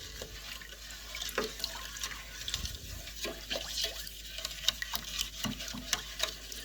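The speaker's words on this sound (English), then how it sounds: "And you want to stir this until it's all dissolved." A spoon stirring salmon brine in a container until the salt dissolves, giving quiet, irregular sloshes and small clinks and drips, close by and low in level, with no talk.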